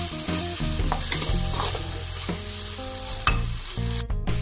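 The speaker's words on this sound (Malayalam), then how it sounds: "ഇഞ്ചി വെളുത്തുള്ളി പേസ്റ്റ് ചേർത്ത് കൊടുക്കാം നല്ലോണം മിക്സ് ചെയ്യാം" Ginger garlic paste is stirred into a hot frying pan while making Indo-Chinese dragon chicken, with a steady close sizzle under repeated scraping strokes of a spoon and no voices.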